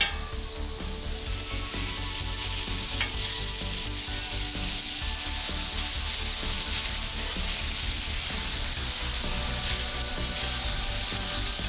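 Smash burger beef and onions sizzle loudly and continuously on a hot pan, a dense crackling fry with occasional scraping stirs.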